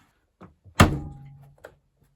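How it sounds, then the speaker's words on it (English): A Miele Professional WS5073 washing machine door bangs shut with one loud, close thunk and a brief ringing decay, framed by a few faint handling knocks before and after. "Let's bang the door."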